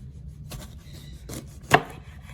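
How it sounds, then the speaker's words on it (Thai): A knife chopping vegetables, including chili peppers, on a cutting board in a home kitchen, giving a few separate cuts with one sharper, louder chop near the end, with no talking. "มาเดี๋ยวเรามาเริ่มมาหั่นเลยนะครับ"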